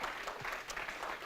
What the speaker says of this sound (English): really, really big, applause for Aris and folks from Cityjs